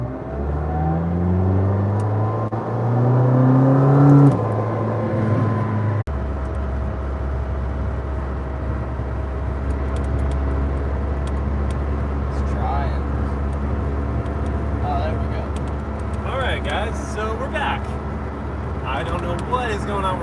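A McLaren Senna engine heard from inside the cabin while driving: a rising rev that climbs in pitch for several seconds, then a steady low drone under ongoing conversation from the occupants.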